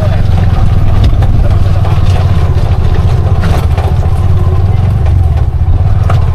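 A Bajaj RE three-wheeler engine runs loud and close during a test drive on the way to a farm, a continuous low drone with rattling clatter and bumpy road noise throughout.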